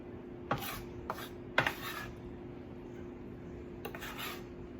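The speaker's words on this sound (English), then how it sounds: "I'm gonna rough chop some of these" A knife rough-chops vegetables on a board in a few scattered, scraping strokes, with a short cluster of cuts followed by a pause and a final stroke, all close and fairly quiet.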